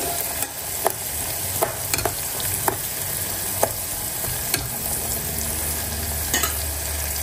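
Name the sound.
stirring lemon slices cooking in a pan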